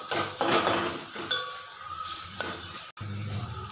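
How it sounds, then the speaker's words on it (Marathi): Onion frying in oil in a pan while making lima bean masala rice, a steady close sizzle with scraping and clinks of a utensil against the pan, and a brief dropout near the end. "नंतरच कांदा टाकायचा आणि कांदा लाल होईपर्यंत हे तेलात भाजून घ्यायचं"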